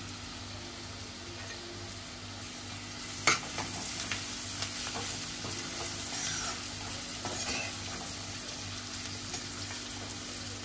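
Onion, asafoetida and curry leaves sizzle in a frying pan, a steady close crackling hiss with a few sharp pops and clinks of stirring, continuing evenly without speech.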